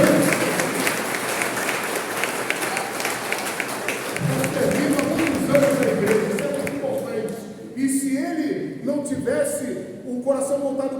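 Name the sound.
church congregation applauding the deacon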